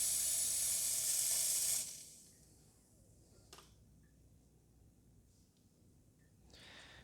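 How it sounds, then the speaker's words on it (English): An Anko coffee machine's steam wand blasts a sharp, loud hiss of steam for about two seconds, then cuts off, leaving a quiet background with a couple of faint clicks and a short final puff. "You just get steam."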